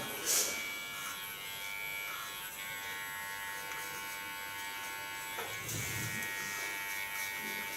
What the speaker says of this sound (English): This I do with the clipper, of course.